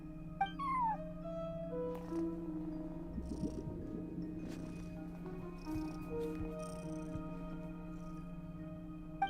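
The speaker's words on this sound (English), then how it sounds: "No one except for a cat watching over the front desk." A cat at a front desk meows in the video game Genshin Impact, a few soft, brief meows over a quiet steady game ambience and music.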